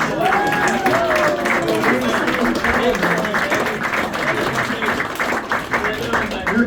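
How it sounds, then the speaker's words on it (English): An audience at a magic show applauds in a burst of dense, sustained clapping that starts under a voice and carries on to the end. "Round of applause."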